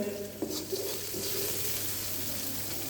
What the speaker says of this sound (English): you are going to add chopped chilies, saute it well